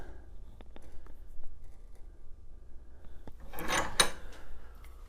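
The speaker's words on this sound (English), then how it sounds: "I'm going to go ahead and fix the one end into the vise" A copper pipe end is clamped into a vise and snugged tight, giving a few faint clicks followed by a short burst of metallic scraping and rattling as the jaw is cranked down.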